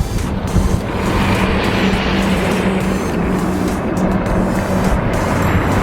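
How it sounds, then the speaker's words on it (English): A big lorry passes on a country road in Morocco, its engine roar and tyre rumble loud and close over steady wind noise throughout. "Big lorry."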